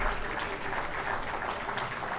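An audience at a ports and logistics conference claps for the speakers, giving a steady, moderately quiet wash of applause with no talking over it.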